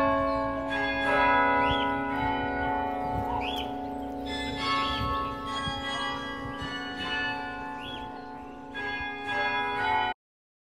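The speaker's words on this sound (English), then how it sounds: "listening to Scott Orr perform on the Loughborough War Memorial Carillon" Carillon bells of the Loughborough War Memorial ring out in a played melody, layered struck tones with long overlapping resonance and a steady hum beneath, sounding close and full for about ten seconds before stopping abruptly.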